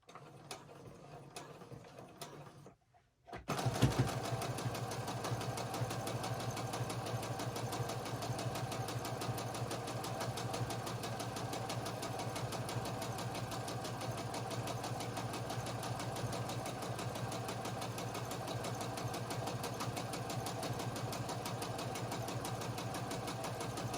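A sewing machine fitted with a bias tape foot stitches a fabric mask or scrub cap, its motor starting after a brief pause and then running in a steady, even mechanical whir for the rest of the time.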